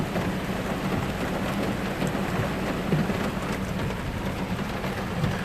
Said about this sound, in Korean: 지금 서울에 도착했는데 지금 많은 비가 지금 내리고 있네요